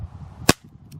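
A single sharp gunshot fired outdoors at a 3D-printed target about 20 yards away, one loud crack over a low background rumble, followed by a faint distant echo or impact.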